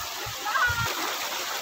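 Leaves are washed in river water, giving a few quick splashes and sloshes up close over a continuous rushing flow of the stream.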